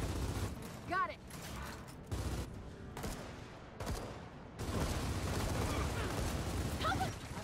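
Video game gunshots in uneven clusters of sharp cracks with short pauses between bursts, plus mechanical clicks, under intermittent speech.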